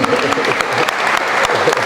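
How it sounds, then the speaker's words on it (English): Crowd applause at a coach's retirement celebration, loud close clapping from many hands with voices faintly mixed in, brief and continuous. "let's clap it up for them as well"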